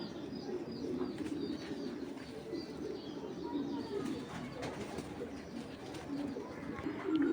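Club pigeons, including Iranian breeds, cooing in a loft with a steady low murmur of coos throughout, a few faint chirps and a soft flutter near the end.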